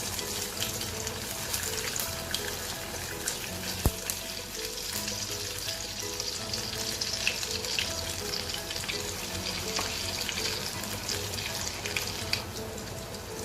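Kothimbir vadi coated in sesame frying in oil over a low flame, a steady dense sizzle and crackle that continues throughout, with occasional faint pops and stirring.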